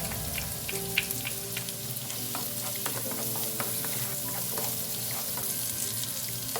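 White onion and garlic frying in a pan for carbonara, a soft steady sizzle with faint stirring clinks and scrapes, close and quiet throughout.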